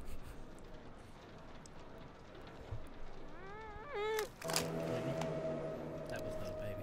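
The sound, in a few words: cat meowing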